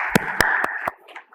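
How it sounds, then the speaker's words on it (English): A few scattered hand claps at an awards ceremony, four distinct sharp claps in quick succession over a faint sustained murmur, fading out quickly rather than building into full applause. "let's give him a round of applause"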